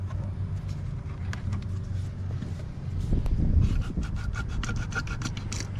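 Fluid being hand-pumped through a tube into the fill hole of a 2020-2023 CFMoto Z950 motorcycle during a home service: steady rubbing, squeaking strokes with a low continuous rumble, close and moderately loud, no talking.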